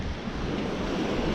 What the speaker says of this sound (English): I've got the wind pounding behind me.